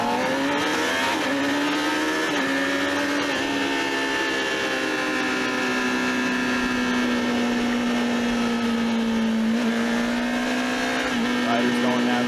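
Amateur sportbikes race away from the start in a loud, sustained engine howl that holds a steady, high pitch with slight rises and dips, while a commentator's voice runs underneath.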